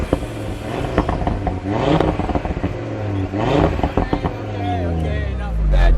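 An Audi RS3 Sedan's engine revs in several sharp, loud bursts that rise and fall, then builds into a sustained roar at the end, recorded close with no talk during the revs.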